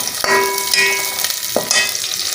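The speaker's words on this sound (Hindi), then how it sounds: "इसमें ये दरमियाने साइज़ के 2 प्याज डाल देंगे। अब इनको लाइट ब्राउन करना है प्याज़ों को।" Two medium onions frying in hot oil sizzle with a steady close hiss, punctuated by a couple of sharp clanks of a stirring spoon against the pan.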